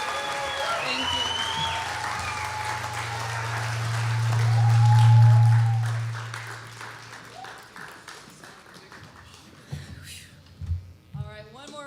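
Steady applause from an audience at a spring music showcase swells and then fades, followed by scattered claps and a voice speaking.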